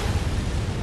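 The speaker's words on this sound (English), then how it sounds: "Is that a minigun? He has a minigun up there?" Minigun fire and an explosion in the video game Bloodborne, a continuous loud broadband roar with heavy low rumble and no voices.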